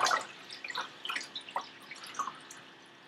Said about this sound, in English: Let's add in our water.